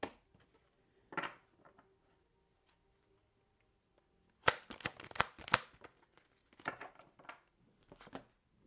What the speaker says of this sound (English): Last shuffle, Spirit.